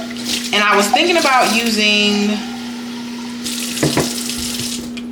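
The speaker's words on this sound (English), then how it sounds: "Now, we're gonna fill these up with water." Tap water runs to fill disposable breastmilk storage bags. A person talks at first, then a close, steady hiss of running water follows near the end.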